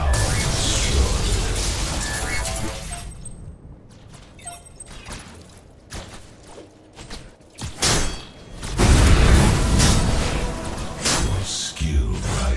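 A tower is destroyed in the online battle game Paragon with a loud burst of crashing thuds, booms and whooshing debris, then a brief lull, then another heavy rumbling surge of blasts and game effects, with a voice speaking over it.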